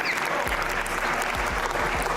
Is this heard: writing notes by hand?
no